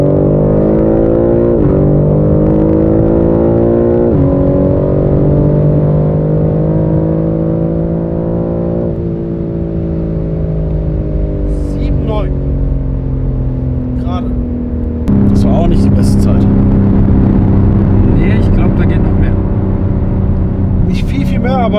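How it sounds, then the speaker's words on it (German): A BMW M3 G80 Competition accelerates hard from 100 to 200 km/h, its engine note rising steadily through several gear shifts, loud and close from inside the car, with brief voices over the engine. "Wir müssen jetzt eine super Stelle finden, wo wir mal wirklich schön Gas geben können, gerade Fläche."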